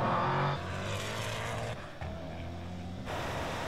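A Porsche 911 Turbo S accelerating hard in a drag race against a Koenigsegg and a 1000hp Audi TT, its engine note climbing and dropping through several quick gear changes, loud and close, with no talk.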